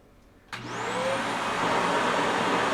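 A Shark NV356E Navigator upright vacuum cleaner with brush roller switches on with a click over carpet and quickly spins up to a loud, steady whirring roar that holds to the end.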